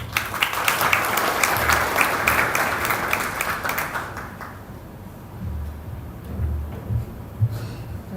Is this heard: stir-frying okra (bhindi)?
no